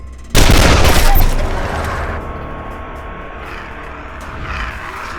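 Gunfire in the Wasteland 2 video game: a sudden loud burst of shots that holds for about a second, then decays into a rumbling tail with scattered smaller impacts.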